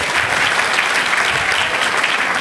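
Enthusiastic audience applause at an annual religious gathering, steady dense clapping from a crowd, loud and continuous throughout with no talk over it.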